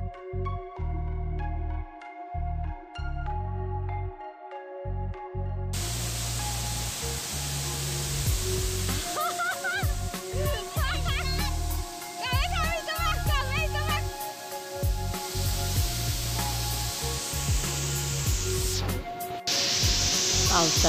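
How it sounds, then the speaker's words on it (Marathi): A large waterfall in the rain gives a steady, loud broadband roar of rushing water, filling the whole stretch with an even hiss, while people talk over it. "धबधब्याचा केवढा मोठा आवाज आहे तो तुम्ही ऐकू शकता"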